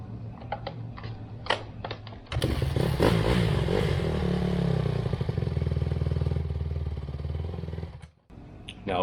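A rebuilt 2009 Honda CRF150R dirt bike with a 45 slow jet and 138 main jet starts up and runs, a loud, close, buzzing idle with rapid firing pulses after some clicking and handling sounds, then cuts off near the end.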